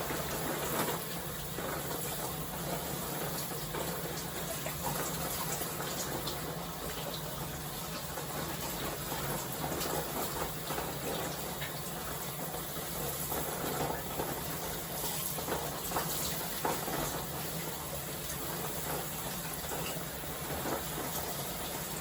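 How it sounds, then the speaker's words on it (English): Running water rinses deep conditioner out of hair, a steady, dense broadband wash that stays fairly even and close throughout with no talking. "We're going to rinse out this deep conditioner"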